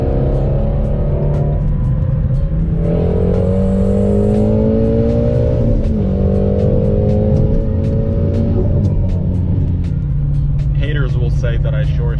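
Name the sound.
Whipple supercharged Shelby GT350 engine revving and exhaust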